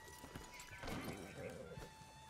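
A horse in the Red Dead Redemption 2 video game clip-clops and whinnies, with hoof beats and a clear neigh in the middle, while voices murmur faintly underneath.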